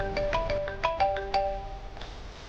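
Mobile phone ringtone playing a bright electronic melody of short repeated tones, clear and close, fading out near the end.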